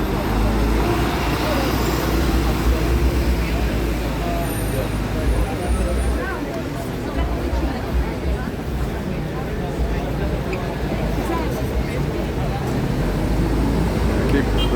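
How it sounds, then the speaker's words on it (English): Continuous heavy street traffic at Parliament Square in Westminster, London, with buses, cars and trucks rumbling and hissing past at close range, a steady broad roar that fluctuates slightly without pause. "Remarking on the amount of traffic."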